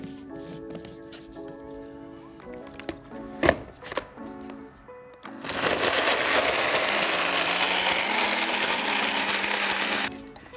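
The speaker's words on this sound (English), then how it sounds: "Everything's packed in our blender, so let's turn it into a creamy," A blender whirs loudly and steadily for about five seconds as it purees tahini, dates and spices into a smoothie, after a stretch of lighter kitchen clatter and taps.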